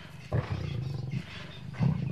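Seven lions fight and growl over a torn-apart wild boar carcass in the Timbavati bush, giving deep, rough roars in two close bursts with continuous snarling between them and no speech.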